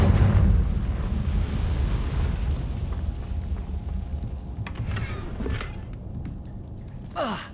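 A Confringo blasting spell in the game Hogwarts Legacy, a deep booming explosion with a heavy low rumble that slowly decays, followed near the end by a couple of sharp bright magical zaps.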